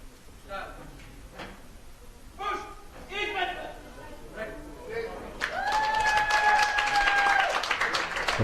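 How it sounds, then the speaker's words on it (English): A crowd at a para powerlifting European championship in Eger, Hungary, whoops and cheers loudly after a lift, a sustained burst of cheering with a long whistle, following scattered claps and noises in a large hall. "The whoops and cheers from the crowd here in Hungary."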